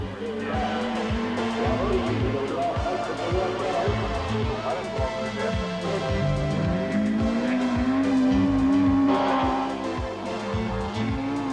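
A Toyota Corolla GT rally car runs a course at the 1989 Mystery Creek Rallysprint. Its engine revs rise and fall through gear changes and the tyres squeal, while a commentator talks over the car.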